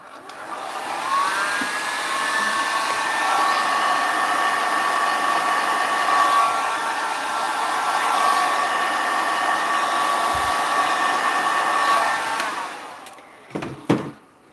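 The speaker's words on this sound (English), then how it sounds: "I was only using that heat gun on low heat and low air" A heat gun set to low heat and low air blows steadily over black and silver resin, a continuous close airflow whine lasting about twelve seconds before cutting off, followed by a few brief knocks.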